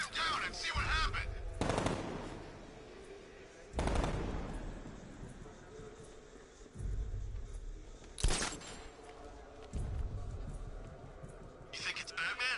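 Gunfire in Batman: Arkham Knight comes as several loud bursts of rapid shots spread across the moment, with rumbling quieter stretches between them and some voices mixed in.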